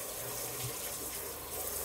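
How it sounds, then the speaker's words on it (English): Lukewarm tap water runs steadily, rinsing soap out of a wool cloth diaper cover in a sink, a soft continuous splash with no talk. "I'm going to lukewarm water or cool, and I'm going to rinse the soap out real quick."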